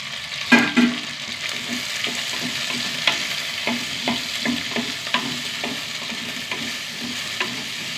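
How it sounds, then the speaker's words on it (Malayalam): A quarter kilo of okra is sautéed with browned onions in a pan, giving a steady sizzle and frying crackle. A spoon stirs and scrapes against the pan in a loose rhythm, close and fairly loud. "വെണ്ടയ്ക്ക നന്നായി വഴറ്റി എടുക്കട്ടെ."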